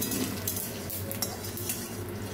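Peanuts fry slowly over low heat while a spoon stirs them, making a continuous soft sizzle with light scraping and clinks from the pan, close and fairly quiet.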